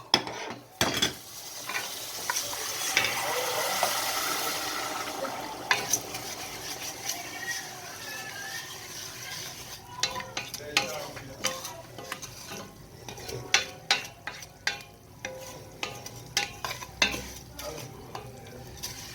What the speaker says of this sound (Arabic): هنقلب الشعريه كويس لغايه ما تاخد اللون الذهبي